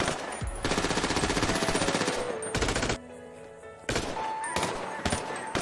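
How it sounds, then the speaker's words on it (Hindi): Cartoon gunfire as the Joker shoots a man: long bursts of rapid machine-gun-like shots, loud and close, broken by a brief pause before the firing resumes. "जोकर गोलियों से उसको भून देता है"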